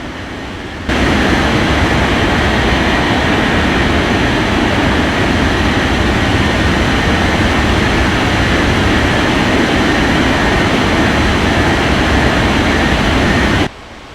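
A jet airliner roars steadily during takeoff at Bali airport, a dense, loud, continuous engine rumble that begins abruptly and cuts off near the end, with no voices over it.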